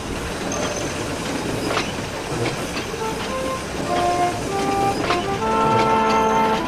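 A train rolling on rails, a continuous rumbling clatter with squeals and metallic tones rising over the steady running noise.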